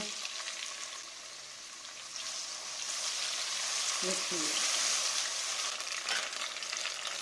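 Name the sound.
chilies and tomatoes frying in pan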